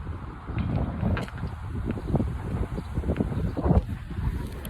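Wind gusting into the microphone by a lake in France, a low rumbling buffet that rises and falls with a few brief bumps and rustles, nearby and fairly soft.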